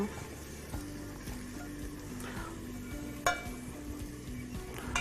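Continuous soft sizzling with a spoon scraping and stirring flour roasting in melted butter in a pan, a thick mixture, occasional light clinks against the pot.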